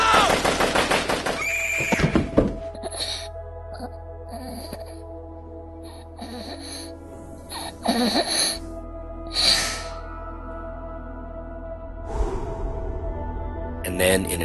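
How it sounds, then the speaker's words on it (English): AK assault rifle gunfire in a dramatic scene, bursts of automatic fire near the start and again mid-clip and at the end, loud and sharp over a steady low drone, with breathy gasps between. "I heard the sound of an AK."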